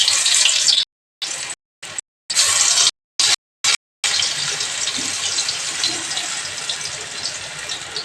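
Okra pieces coated with a little water frying in smoking-hot oil, a loud continuous sizzle with broadband hiss broken by several brief silent gaps, then steady close sizzling to the end.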